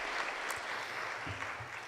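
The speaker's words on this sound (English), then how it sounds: "can we just give another round of applause for our panelists and Joy" A conference audience applauds panelists at a corporate governance career fair, a steady wash of clapping from many hands that carries on for a couple of seconds at moderate volume.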